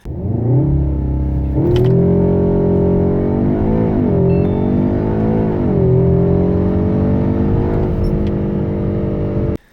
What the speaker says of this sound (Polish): Start z procedury startu robi nieziemskie wrażenie.